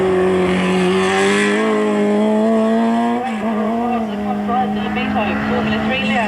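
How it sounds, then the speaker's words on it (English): A race car engine roars loudly and steadily, its pitch climbing as it accelerates uphill at a hillclimb event, with a commentator's voice over the top. "nice crisp, strong sound of engine"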